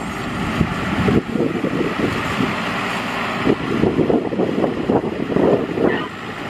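A Kombi Maxxi Bimo 102 combine harvester revs its engine in a field: a rough low rumble that surges in repeated bursts under gusty wind noise.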